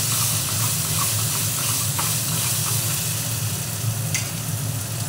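A ground spice paste frying in a pan with a steady, loud, close sizzle and hiss, a few faint stirring scrapes over it, no voice.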